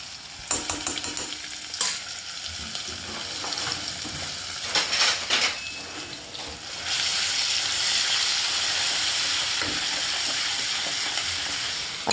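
Asafoetida and garlic-ginger paste hit hot oil with cumin, giving a loud close sizzle with stirring scrapes that swells into a steady, intense hiss partway through while making palak paneer.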